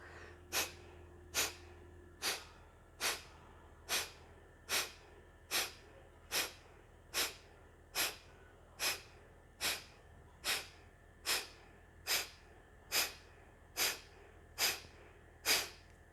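During a yoga breathing exercise, sharp nasal breaths are forced out in a steady, even rhythm, about sixteen in a row, each one close and distinct against a quiet room.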